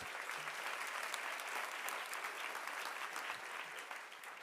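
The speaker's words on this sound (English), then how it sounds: "give her another round of applause" Steady, dense applause from a large audience at a women-in-entertainment awards ceremony, sustained evenly throughout without pause, with no voices standing out.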